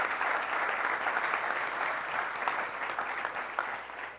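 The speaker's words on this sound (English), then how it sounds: "Another round of applause for that proclamation that he did a little bit earlier." A crowd at a soccer club announcement event claps steadily for a few seconds, moderately distant and fairly soft, the applause easing slightly at the end.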